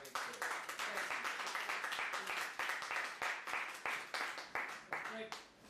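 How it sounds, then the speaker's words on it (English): A small audience claps to welcome speaker Ray Carey, with fairly quiet, distinct individual claps in a loose rhythm. "give a round of applause for Ray"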